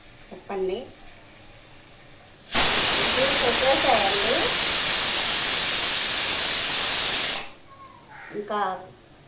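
A pressure cooker on a gas stove hisses loudly and continuously for about five seconds as steam releases, with someone talking briefly before and after.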